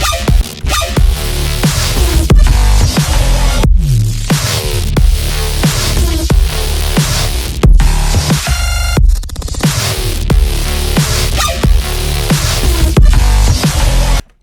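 A processed Serum synth patch remaking a track, soft-clipped and limited, pulses loud and gritty in a repeating dark electronic loop, with a brief filtered break in the middle.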